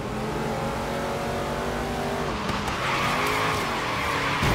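Car drifting in the Forza Horizon 3 Hot Wheels racing game, a steady engine drone with sustained tire skid and squeal running continuously, loud and close, briefly shifting pitch midway.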